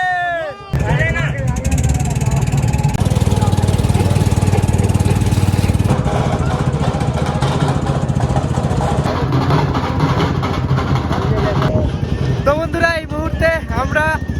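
A motor boat engine drones steadily as it crosses the Yamuna river at Vrindavan during Holi, loud and continuous for the whole stretch, with people talking over it.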